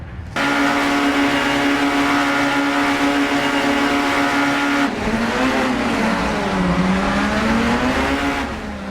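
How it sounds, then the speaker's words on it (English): Touring race cars, including a Renault, launch off the line at TT Circuit Assen in a sim racing game, a loud sustained engine roar that climbs steadily, then drops with a gear change and revs up again through wavering pitch. "We do get a nice launch off the line"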